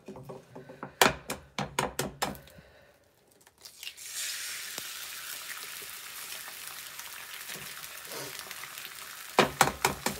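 A sharp burst of clicks and taps gives way to a steady, bright crackling sizzle of eggs frying in a hot pan, with a few more clatters at the end.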